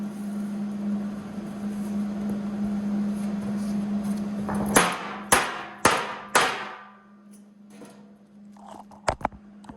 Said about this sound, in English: So I'm hammering them up against it and throwing tack welds in place.